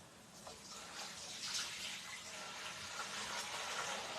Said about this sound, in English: Just good old regular tap water, nothing fancy.